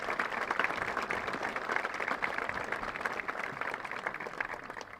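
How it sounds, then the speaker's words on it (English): Graduation audience at a high school ceremony applauding award recipients, sustained crowd clapping with crisp individual claps standing out, holding a fairly even level throughout. "A round of applause for all of the other awards that have been given"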